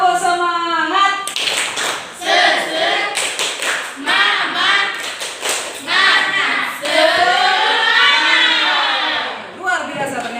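A classroom of students performs a rhythmic 'tepuk semangat' clapping chant, with bursts of patterned claps alternating with loud voices chanting and talking throughout, close and energetic.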